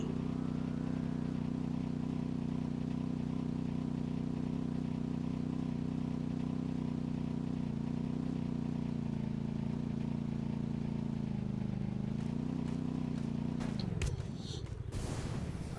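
A vehicle engine in the video game Free Fire, a steady droning hum that holds evenly, then dips and cuts out near the end amid a few clicks.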